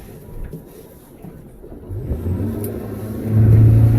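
Outboard motor on a 190 Searunner boat starting up and running, a low engine rumble building and growing louder toward the end.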